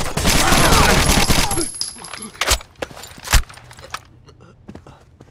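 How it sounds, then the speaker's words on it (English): Heavy gunfire in the game Rainbow Six Vegas, a loud sustained volley for about two seconds, then a few isolated single shots and quieter thuds as it fades. "Under heavy fire!"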